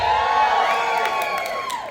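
A room full of people at a business event cheers and whoops for about two seconds, with high voices crossing each other in a loud, continuous burst of crowd noise.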